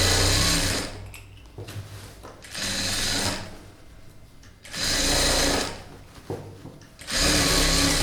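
A sewing machine stitches along a blouse lining in three or four loud, whirring bursts of rapid needle clatter, separated by quieter pauses with handling noises, close up and with no talking.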